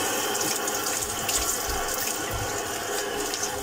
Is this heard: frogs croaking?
no